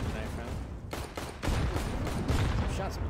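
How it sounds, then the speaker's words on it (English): Gunfire and explosions from a Counter-Strike match on the Inferno map during a knife round, with a caster's voice talking over sharp repeated shots and bursts throughout. "Shots being taken, explosions."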